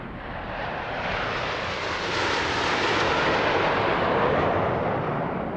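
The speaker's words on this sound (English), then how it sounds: "This is the Tudor aircraft." Inside the cockpit of a Snowbirds Canadair Tutor jet flying at an air show, the engine gives a loud, steady broadband roar that swells slightly and holds throughout.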